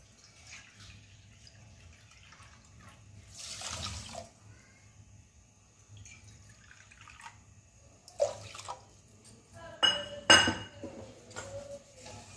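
Water poured onto sugar in a pan to make syrup for balushahi, soft intermittent pouring and splashing with a few clinks of utensils, quiet and close, no talk.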